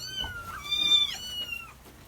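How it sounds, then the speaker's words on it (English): A baby kitten gives one thin, high, drawn-out meow at close range, clear against a quiet background. "A baby kitten."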